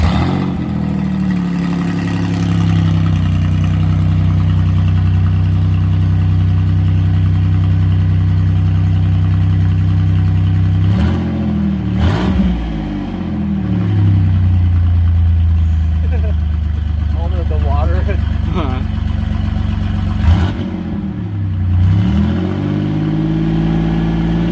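A twin-turbo V6 Mustang runs with an oversized, untuned fuel pump, a steady loud idle broken by two sharp revs and rough stumbles, with a voice talking briefly in between.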